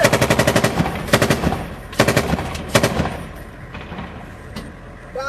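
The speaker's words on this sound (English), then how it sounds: "And a lot of gunfire." Bursts of automatic gunfire ring out during the battle for Mosul in Iraq, several rapid rattling volleys at medium distance followed by scattered single shots echoing in an urban setting.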